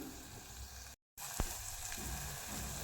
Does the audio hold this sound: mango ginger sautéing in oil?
yes